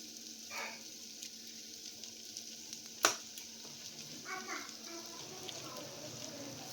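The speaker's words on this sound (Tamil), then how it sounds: "நம்ம போட்டிருக்க மசாலா மட்டும் கொஞ்சம் பச்சை வாசனை போகிற வரைக்கும் கொஞ்சம் வதக்கிடலாம்" Masala sautéing in a pan for a paneer roll, a faint soft sizzle with light stirring scrapes and one sharp clink, quiet and continuous.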